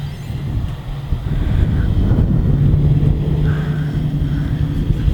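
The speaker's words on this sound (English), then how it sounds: "it is very windy today. Very windy." Strong wind gusts buffet a microphone outdoors, a loud, continuous low roar that swells after the first second and holds steady with slight surges.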